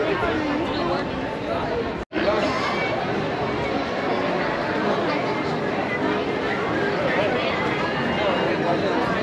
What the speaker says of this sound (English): oh my God, the crowd going out